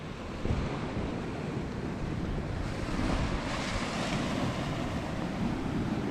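Sea water churns and surges among coastal rocks on the Angus coast in Scotland, a loud, continuous broadband roar of surf with wind buffeting the microphone throughout.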